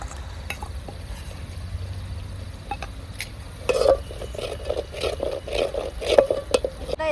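Homemade masala is stirred and fried in a pan for a spicy vajdi fry, with a soft sizzle and intermittent scraping of the spatula against the pan that grows busier toward the end.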